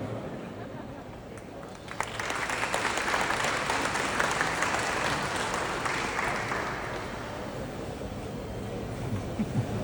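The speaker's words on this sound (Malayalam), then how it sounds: "മുഖ്യമന്ത്രി ആയതുകൊണ്ട് വരുമ്പോൾ കൈയടിക്കണം കേട്ടോ." Sustained applause from an audience as the Chief Minister steps onto the stage at a hospital Blood Donor Day event, starting around two seconds in and swelling into dense clapping that fills the rest of the clip.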